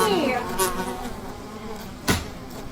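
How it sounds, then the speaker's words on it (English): Insects buzzing indoors, a close bee-like drone with wavering pitch sweeps that fades, followed by a sharp knock. "Julia, don't kill the bees."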